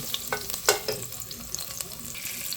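Garlic sizzles softly in a pan as it is sautéed as a base for pork sinigang, with a low frying hiss and a few light stirring taps close by.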